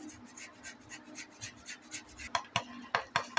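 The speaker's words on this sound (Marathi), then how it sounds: "आता हा बटाटा मी असा एक किस किसून टाकते" A potato is grated by hand on a kitchen grater for a stuffed capsicum recipe, a quiet rhythmic rasping of repeated strokes that grows sharper and quicker toward the end, with no talk over it.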